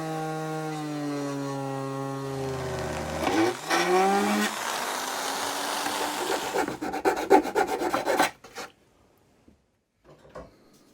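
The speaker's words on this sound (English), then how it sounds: "while I had the Dremel out, I cut the hole to fit the new matrix" A Dremel rotary tool cutting a hole for a heater matrix in a Triumph TR7, its whine rising in pitch as it spins up, then a rough grinding rasp through the material before it stops abruptly.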